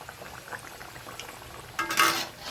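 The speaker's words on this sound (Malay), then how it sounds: "Kita goreng." Roti boyan frying in hot oil, a quiet low sizzle that swells into a brief louder crackling burst near the end.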